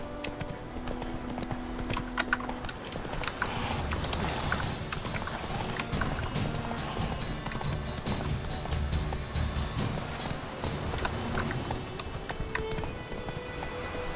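Galloping horse hoofbeats in The Witcher 3, a steady, driving clip-clop rhythm running throughout with occasional whinnies and game ambience layered around it.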